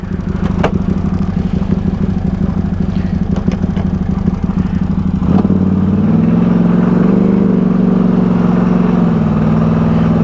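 Can-Am side by side running and driving, its engine a loud continuous mid-pitched drone nearby that steps into a smoother, steadier hum partway through, with no talk.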